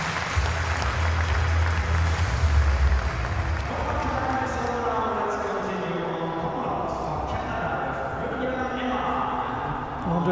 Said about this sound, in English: That's why there's that warm applause ringing out in the Messias in hall number 3.